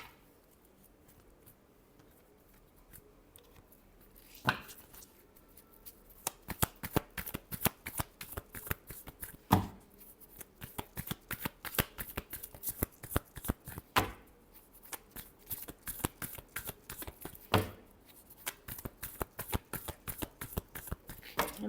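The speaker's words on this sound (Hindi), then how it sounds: "Last shuffle." Tarot cards shuffled by hand at close range: quiet rapid riffling bursts of crisp card flicks, broken by brief pauses and a few sharper snaps as the deck is squared, with no voices.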